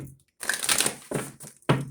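Tarot cards being shuffled by hand, with short papery riffles and crisp card rustles in quick bursts, close and fairly loud, separated by brief pauses.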